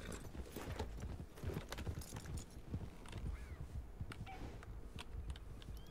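Horse hooves clip-clop steadily in the Western video game Red Dead Redemption, mixed with faint creaks and mechanical game sounds; the footfalls are moderately close and continuous throughout, with no voices.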